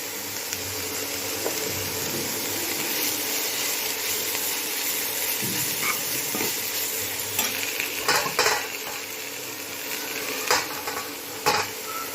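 Boiled banana flower fries with a constant sizzle while a spoon stirs it, giving occasional scraping knocks against the pan, close up and without speech.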